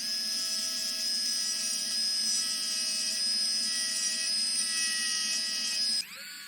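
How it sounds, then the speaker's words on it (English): A Bauer burr rasp bit spins in a power tool while carving wood, giving a steady, loud high whine that drops off abruptly near the end. "I just wanted to test this burr out,"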